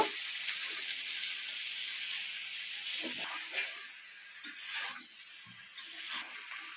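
Mixed vegetables such as potato, pumpkin, pointed gourd and drumsticks sauté with spices in a pan, giving a steady soft sizzle and hiss with occasional stirring scrapes, moderately close and without speech.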